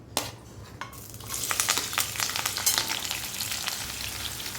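Onions dropped into hot oil with a little salt start frying, a couple of sharp clinks giving way to a continuous crackling sizzle with stirring scrapes close by.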